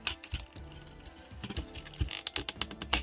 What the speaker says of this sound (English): I do not like these clicking sounds.